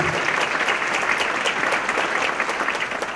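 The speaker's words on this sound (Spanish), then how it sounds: "Damos un aplauso." Audience at a talk with business owners applauding, a steady, dense wash of clapping from many hands that holds even and fairly loud throughout, with no speech on top.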